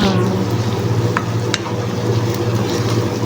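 Basmati rice being sautéed and stirred in a pan, giving a steady close sizzle with a few light scraping clinks from the spoon, no talking.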